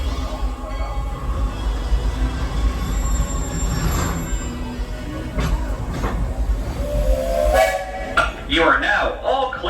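The Walt Disney World Railroad steam train Lilly Belle rumbling and squealing as it slows to a stop, with hissing steam and a brief whistle-like tone, loud and close throughout.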